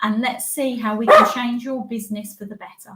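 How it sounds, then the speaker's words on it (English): A dog barks and yips excitedly indoors after a doorbell, sharp repeated barks clearly audible under a man's continuous speech. "Excuse the dog going mental because the doorbell has just been going."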